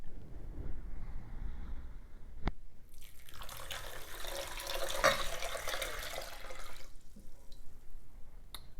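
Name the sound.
water poured into a bowl of soil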